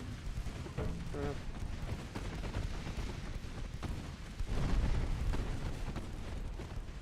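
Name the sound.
destroyers' 4.7-inch gunfire in video game Ultimate Admiral Dreadnoughts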